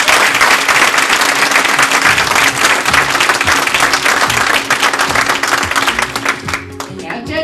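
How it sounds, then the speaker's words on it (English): A gala audience applauds steadily and loudly, a full wash of clapping that holds for several seconds and thins slightly near the end. "We have another round of applause for all the people."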